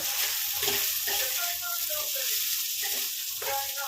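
Mixed vegetables fry in a pan on a gas stove in a home kitchen, giving a steady loud sizzle throughout. Faint voices or other sounds mingle underneath.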